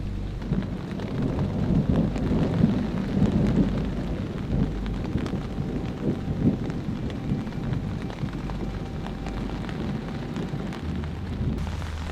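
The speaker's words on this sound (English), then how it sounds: "without a doubt, there's a thunderstorm out there" A steady wash of heavy rain with low, rolling rumbles of thunder underneath, continuous and enveloping throughout.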